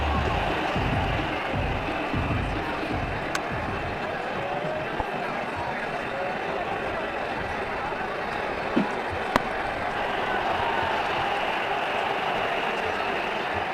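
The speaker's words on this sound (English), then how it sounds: "The crowd really enjoyed that one." Crowd noise from a cricket stadium in the Ashes Cricket 2009 video game, a steady broad wash of applause and murmur lasting throughout, with a commentator's voice faintly underneath.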